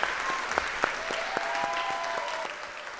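Warm audience applause in a studio as a performer leaves the stage at a televised singing competition semifinal, steady clapping with a few sharper claps standing out and faint musical tones underneath.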